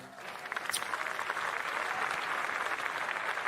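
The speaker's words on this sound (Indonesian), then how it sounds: "mari kita berikan tepuk tangan yang paling meriah untuk iNews Media Group" Applause from a crowd at a stand-up comedy show for a media group launch in Indonesia, a full, lively burst of clapping that builds quickly and stays strong, with a faint crowd murmur beneath.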